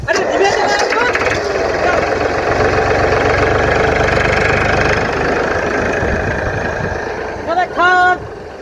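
An old tractor engine idles and knocks with a steady mid-pitched rumble, loud and close, while voices talk over it and a brief sharper burst comes near the end.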